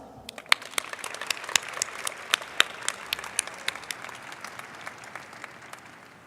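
Applause from a closing ceremony audience, a crowd clapping steadily with distinct loud individual claps, sustained for several seconds without talk.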